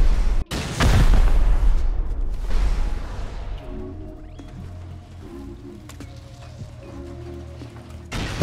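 In a video game raid, a loud rocket blast booms up close, followed by rumbling and scattered sharp impacts that fade into quieter mechanical background noise.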